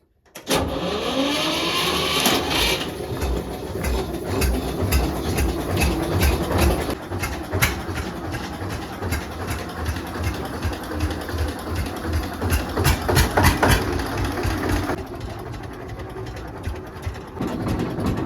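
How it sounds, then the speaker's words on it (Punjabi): A vehicle's engine is self-started on a cold winter night on a farm, cranking briefly and catching, then running loudly and close with a rough, uneven idle and revving throughout. "ਸੈਲਫ ਤਾਂ ਮਾਰ ਦੇ ਗੱਡੀ ਦਾ"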